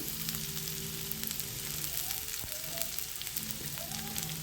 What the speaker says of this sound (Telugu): క్యాప్సికమ్, ఇవన్నీ కూడా హై ఫ్లేమ్లోనే ఫ్రై చేసుకోవాలండి